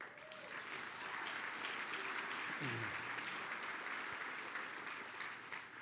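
At a university gala, a room of guests applauds steadily at moderate volume, an even wash of clapping that holds throughout, with a brief voice and a faint passing tone early on.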